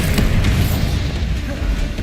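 Bombarda explosion spell going off in the Hogwarts Legacy video game, a heavy low boom with a rumbling tail that fills the whole clip amid steady combat noise.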